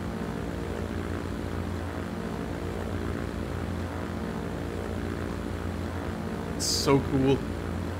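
A propeller plane drones steadily as it climbs away after takeoff in the video game Transport Fever 2, a continuous engine hum under a brief spoken remark near the end.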